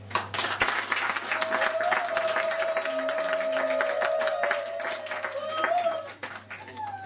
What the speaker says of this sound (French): cette troisième cérémonie mérite des applaudissements